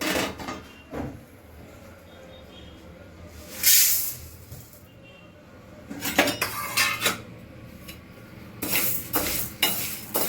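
Metal wok set down on a gas stove and barley grains stirred as they dry-roast, with sharp clanks of metal on metal, scraping stirs and a faint hiss between quieter pauses.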